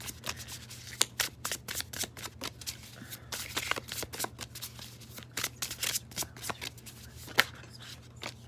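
Tarot cards being shuffled by hand, a steady run of quick riffling snaps and papery flutters close up with a low hum underneath and no voices.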